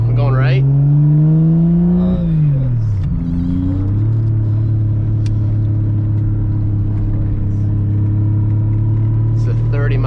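A Toyota 2JZ engine running on E85 pulls as the car accelerates after a clutch engagement, a loud, close droning rumble whose pitch climbs, dips at a shift, then holds steady, with someone talking over it.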